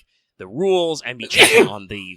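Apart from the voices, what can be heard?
sneeze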